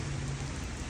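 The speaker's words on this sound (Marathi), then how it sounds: "अजून पाऊस काय थांबला नाही" Heavy rain pours in a dense, steady roar, with no voices over it.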